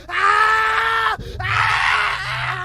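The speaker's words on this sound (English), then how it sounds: "guy tumbled to the ground with a shriek of pain" A shrill, strained shriek of pain, horror-story style, rises twice with a short break between, the second cry lower and more groaning, loud and close.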